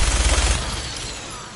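Rapid gunfire in Fallout 4 as Skinny Malone is shot down, a dense burst of repeated shots loudest at the start, then fading into a decaying rumble with no talk over it.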